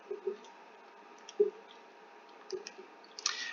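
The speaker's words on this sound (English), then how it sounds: "I'm going to type this into my calculator." Calculator keys are tapped a handful of times as numbers are entered, producing soft, irregularly spaced clicks over a quiet background with a slightly brighter burst at the end.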